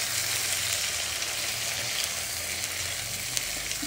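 Food sizzles steadily in a kadai, a dense, continuous frying crackle that stays close and even, with no voices.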